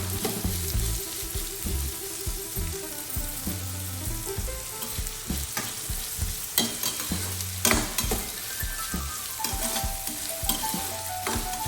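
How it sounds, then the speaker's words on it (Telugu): Carrot, beetroot and onions fry together in a pan with a steady, close sizzle that runs unbroken for the whole stretch, joined by occasional stirring. "ఒక 5 నిమిషాలు ఇలా వదిలేసామంటే చక్కగా అది రెండు వేగిపోతాయి."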